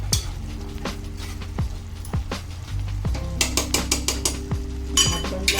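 Stirring and mixing chickpea curry with garam masala and coriander in a pot, giving a steady run of close scraping and clinking strokes, some sharper metallic taps, all without talk.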